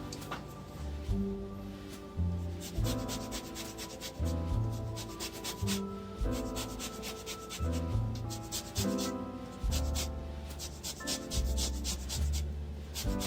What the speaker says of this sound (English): and then we're going to zest